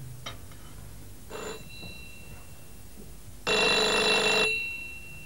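A telephone rings in a room, first with a couple of faint short chirps, then one loud, sustained bright ring lasting about a second near the end, with no talking.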